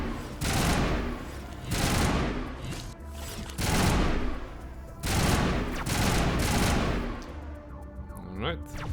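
Enemy gunfire in the Mass Effect video game comes in loud repeated bursts of shooting, roughly every second or two, with a brief voice near the end.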